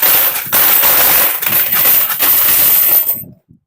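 A bamboo savings bank crammed with coins is shaken hard, giving a loud, dense metallic rattle that pulses in bursts for about three seconds before stopping abruptly, with no voices.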